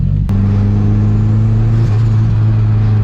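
A turbocharged K24 engine in a boosted ninth-generation Honda Civic runs at a steady, loud, close drone, with a brief shift in pitch midway and no voices.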